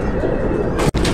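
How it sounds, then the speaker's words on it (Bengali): A Dobe bloodline pigeon coos in a low, soft warble, close and clear over a steady background hum, with a brief break near the end. "মাশাআল্লাহ, চমৎকার কবুতর।"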